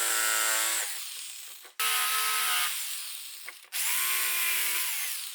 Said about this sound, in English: And I'll cut this out with a jigsaw.